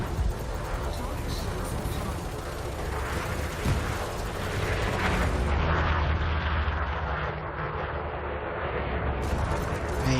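Heavy booming of warship main cannons firing in the naval game World of Warships Legends, deep rumbling blasts layered over steady ship and battle noise, with a person talking over the action.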